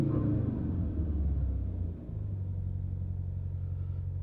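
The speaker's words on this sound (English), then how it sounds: "we should be able to take the RPMs and give it a little bit of bleep and a little bit of gas" A car engine with a freshly replaced Mountune recirculation valve gives a deep, steady rumble nearby, dipping briefly before settling back into an even, smooth hum.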